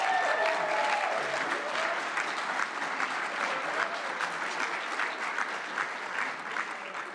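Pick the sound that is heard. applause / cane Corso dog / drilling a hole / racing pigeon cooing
applause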